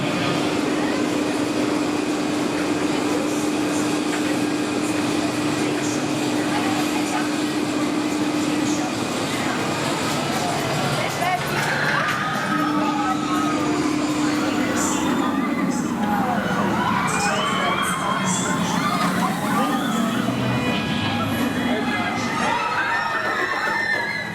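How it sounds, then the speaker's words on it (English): The Swarm, a B&M roller coaster at Thorpe Park during an Oktoberfest event, rumbles loudly and continuously under a steady tone, with crowd noise and shouts from riders rising toward the end. "One of the best B&M coasters in the country."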